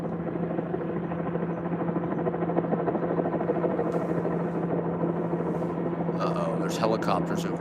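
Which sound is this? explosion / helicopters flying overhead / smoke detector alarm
helicopters flying overhead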